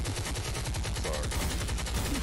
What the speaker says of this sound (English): Let the gunshots go.